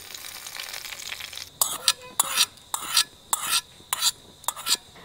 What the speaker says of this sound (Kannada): ಈ ಮೂರನ್ನು ಒಟ್ಟಿಗೆ ಹಾಕ್ಕೊಂಡು ಚೆನ್ನಾಗಿ ಇದನ್ನು ಫ್ರೈ ಮಾಡಿಕೊಳ್ಳುವ